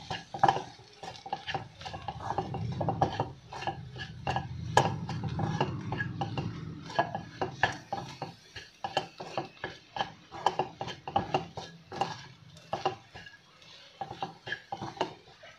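Samosa filling mixture is stirred in a bowl over a low flame, the spoon scraping and clinking steadily and close by, with no talking.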